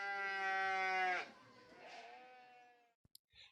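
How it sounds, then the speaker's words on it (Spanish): A sheep bleats in a long, loud, wavering call of about a second, followed by a softer second bleat, then a few clicks and a brief faint noise at the end. "Ahora escucharemos qué sonido hace la oveja."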